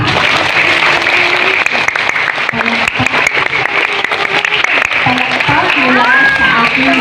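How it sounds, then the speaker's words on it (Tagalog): Loud, dense audience applause from a school reading-month event fills the whole stretch, steady crowd clapping with voices mixed in underneath. "Paano pong palakpak?"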